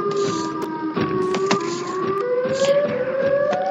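Siren Head's siren in a video game: a loud, continuous wailing tone with slowly gliding pitch that holds steady for the whole stretch, with brief clanks and thuds layered over it.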